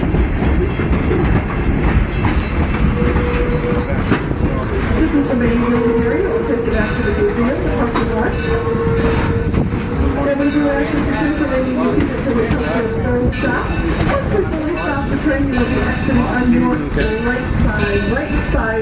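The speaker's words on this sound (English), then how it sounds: "the last train of the day around the village" The Greenfield Village tour train runs continuously nearby, a loud, steady rumble with rhythmic clickety-clack from the rails and faint passenger chatter underneath.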